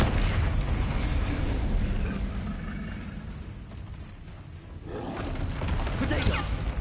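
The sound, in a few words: Confringo and Incendio spell explosions in video game Hogwarts Legacy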